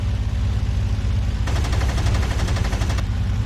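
Rapid aircraft machine gun fire in IL-2 Sturmovik 1946 bursts out over a constant low engine drone, lasting a second and a half before the drone continues alone.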